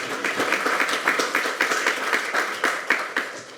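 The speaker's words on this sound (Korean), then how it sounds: "큰 박수로 다시 한번" Audience applause at a lecture hall event on homosexuality, AIDS and monkeypox, a dense steady clapping from many hands, loud and continuous for the whole stretch with no talk over it.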